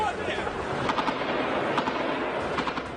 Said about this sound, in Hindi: काफी देर तक गोलियों और धमाके की आवाजें आती रही।